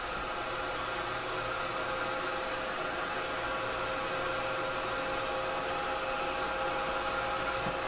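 Heat tool blowing hot air to dry distress ink on a craft tag, a steady, loud, continuous whooshing hum with no pauses and no speech throughout.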